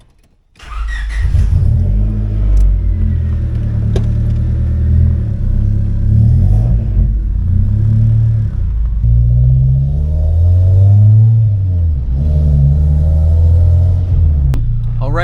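A car fitted with T7 coilovers drives along a road, its engine humming steadily with deep road rumble and shifting revs, loud and close throughout.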